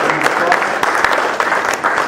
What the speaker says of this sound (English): Please help me in giving him a round of